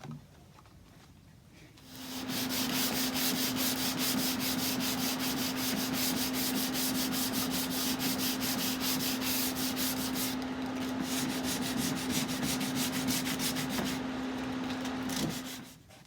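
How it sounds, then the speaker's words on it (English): Sandpaper is worked over the wooden front of a grandfather clock during restoration, a close, steady scratchy rasp of rapid back-and-forth strokes that starts after a short quiet lead-in and runs about fourteen seconds. "I'm going to sand the front down and see if I can match this a little bit better"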